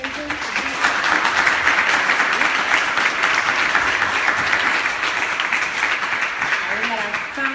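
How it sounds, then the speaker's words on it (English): Audience applause for Lawrence Benton at a talk on marijuana legalization and reparations, a steady, dense clapping that fills the room for several seconds, with faint voices and a brief whoop near the end. "Can we give one more round of applause to Lawrence Benton?"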